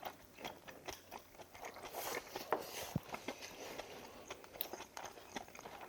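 Someone chews a crispy pork cutlet up close, repeated soft crunches and wet mastication in an irregular rhythm, quiet with faint background noise.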